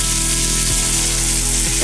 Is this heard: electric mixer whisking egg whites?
no